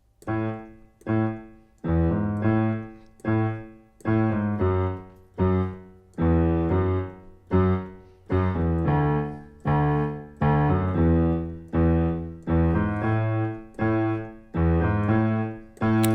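Low piano bass line played alone with the left hand, steady repeated notes in a bouncy rhythm with decaying attacks, continuing evenly throughout without any talking.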